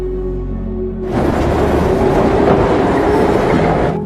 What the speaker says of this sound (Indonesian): dan kereta pun berangkat